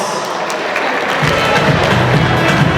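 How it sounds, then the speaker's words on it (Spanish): A wedding crowd claps and cheers loudly, the applause building into a dense, sustained roar. "¡Aplausos!"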